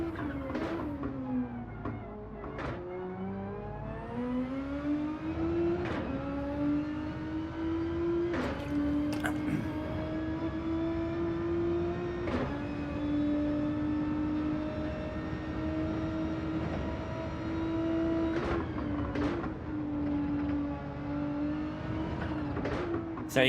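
Race car engine in Gran Turismo 7 running at steady high revs through the lower gears, with a sustained whining tone broken by brief sharp shift blips every few seconds, loud and continuous throughout.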